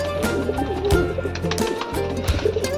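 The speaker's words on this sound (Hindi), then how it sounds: "ये दोनों कबूतर हैं, ये सब जोड़े हैं बाकी के।" Pigeons coo softly and repeatedly at close range, low throaty calls over a steady background hum and some faint rustling.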